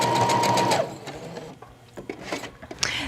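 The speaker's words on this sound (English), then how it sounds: "When you get to the end, you're going to want to back stitch again." A sewing machine runs steadily and close while back stitching the end of a skirt seam, then stops. Light clicks and fabric handling follow, with no talk.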